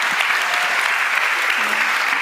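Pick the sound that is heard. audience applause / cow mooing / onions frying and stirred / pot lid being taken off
audience applause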